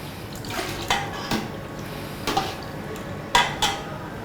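A whole chicken is lowered into a pot of water for Cantonese boiled chicken, giving soft watery sloshes and a few clinks of metal against the pot, several brief splashes spread out and fairly close.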